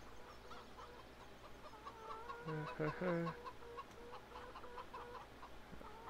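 Chickens cluck in a short burst around the middle in Farming Simulator, quiet overall against a soft background hum and faint game ambience.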